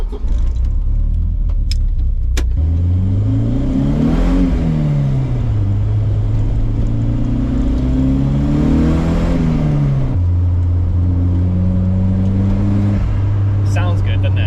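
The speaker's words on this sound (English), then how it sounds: "you hear so much more turbo noise in here" A turbocharged Volvo 940 engine rises and falls in two long revving surges with a clear turbo whine while driving, then settles to a steady cruising drone; people talk over it throughout.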